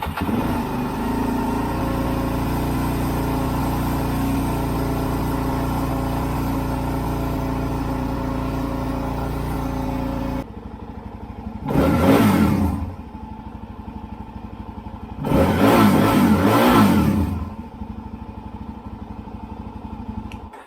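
Suzuki DRZ400S motorcycle with choke on, engine turning and idling loudly for about ten seconds before cutting, then two separate bursts of revving, each building and holding briefly before dropping.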